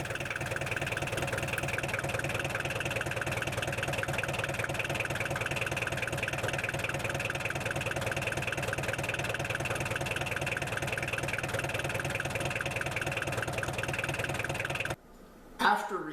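A tractor engine idles nearby with a steady, even mechanical chug that runs unbroken for most of the time before cutting off abruptly near the end, with no talking.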